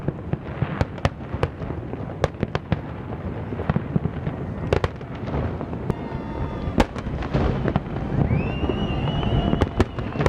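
New Year's Eve fireworks burst over Sydney harbour, watched from an anchored sailboat, with a dense run of sharp cracks and booms, some loud and close, plus whistling rockets and crackle over constant wind noise.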